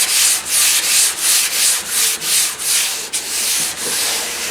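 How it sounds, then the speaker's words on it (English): A sanding block works wet sandpaper over primer on a truck body, rasping in regular back-and-forth strokes of about one per third of a second, loud and close, with no voices. "Keep that paper wet. Now just get your block, sand it out."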